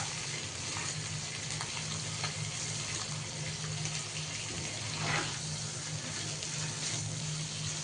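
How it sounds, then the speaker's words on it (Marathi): Bangda mackerel frying in oil over a low gas flame gives a steady, even sizzle that holds at a constant level throughout, with a faint low hum underneath and no voices. "हलक्या गॅसवर आपण असा मासा फ्राय करत आहोत."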